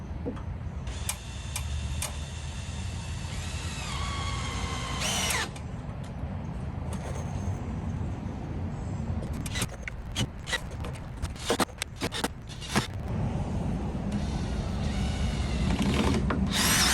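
Power drill running in bursts while screws are driven into boards for a wood porch built onto a metal building, with clicks and clatter between the whirring runs, fairly close, over steady background noise.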